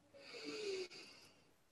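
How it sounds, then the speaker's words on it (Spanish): One deep breath is exhaled forcefully through the mouth during a guided mindfulness breathing exercise, a single soft, breathy rush that rises and fades within about a second in a quiet room. "tomemos una respiración profunda, profunda y soltemos fuerte por la boca"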